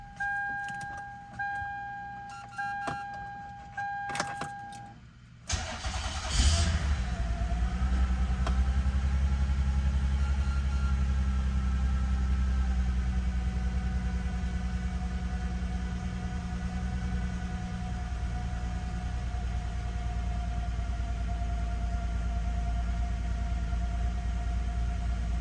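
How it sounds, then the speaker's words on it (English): A 2000 Toyota Avalon with a V6 engine cold-starts after sitting almost two months. Keys rattle and clicks sound first, then the starter cranks and the engine catches, settling into a steady, close idle hum. "Now it's firing on all 6 cylinders. First it was chugging a little bit"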